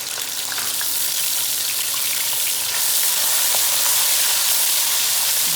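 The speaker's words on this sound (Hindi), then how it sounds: "ऑयल गर्म हो चुका है। अब हम डालेंगे इसमें प्याज।" Ground onion paste from a medium onion frying in hot oil in a karahi, a steady close sizzle and crackle with soft spattering that continues evenly throughout, no voices.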